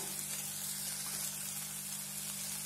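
Spices, coriander powder, chili powder and garam masala, hit a hot pan with a steady, close sizzle that holds evenly throughout, a low constant hum running beneath it.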